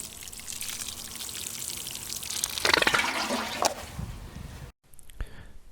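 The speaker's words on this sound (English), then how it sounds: "Finally, give the plant a good watering." Water is poured from a watering can onto a newly planted yarrow in soil, making a close, steady splashing pour that swells briefly, then stops and ends in a few drips.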